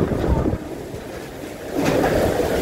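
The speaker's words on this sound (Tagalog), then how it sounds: "Ayan po, hanggang ngayon, grabe pa rin ang hangin, no? Tsaka ulan." Strong typhoon wind roars with rain during a storm in Camarines Norte, a steady broadband rush that swells louder near the end, with no talk.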